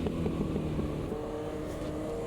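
A Caterham's engine hums and rises under light throttle in the Automobilista 2 racing sim, a steady, fairly close tone with a slight climb in pitch and no voices.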